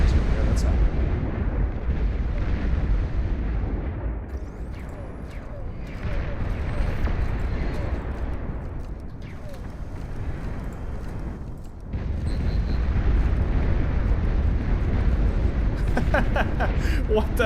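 Barrage of long-range plasma cannon explosions in a strategy video game, a continuous rumbling roar of blasts with a brief lull before resuming loudly, with a voice talking over it.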